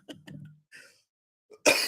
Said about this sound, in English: This cough is getting to me